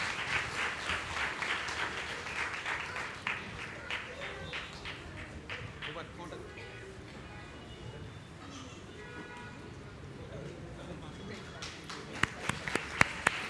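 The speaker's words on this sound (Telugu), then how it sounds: "చప్పట్లు కొడతామా?" A congregation at a Telugu Baptist church's Sunday service claps for a teacher called up to receive a gift, scattered light applause under ongoing chatter, with a few sharp claps near the end.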